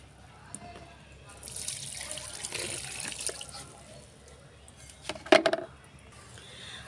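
Banana peel liquid fertilizer is poured from a mug onto garden plants, a soft trickle and splash in the middle and a sharper splatter near the end, with a voice speaking faintly.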